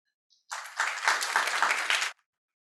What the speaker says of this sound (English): So would you please give a round of applause and welcome Manolo.